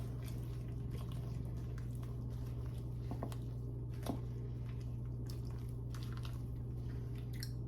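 Washed spinach gets stirred down in a pot, giving soft wet squishing and rustling over a steady low hum from the kitchen, with no one speaking.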